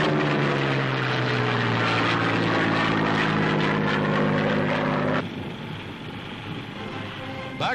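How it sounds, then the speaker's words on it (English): American carrier-based fighter planes flying off Tarawa in 1943, a loud continuous propeller-engine drone with steady harmonic tones that drops to a lower, rougher roar partway through, no voices. "Back to their carriers go the American planes."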